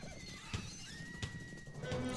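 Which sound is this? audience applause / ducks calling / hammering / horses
horses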